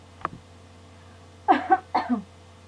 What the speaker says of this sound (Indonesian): Maaf ya, ini saya masih batuk.